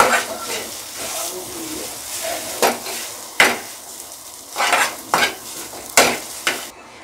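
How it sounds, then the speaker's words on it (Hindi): A poha mixture stirred in a pan over low sizzling heat, with irregular loud scrapes and clanks of the spoon against the metal pan, close up and without talking. "अब कर देंगे हम मिक्स अच्छी तरह से।"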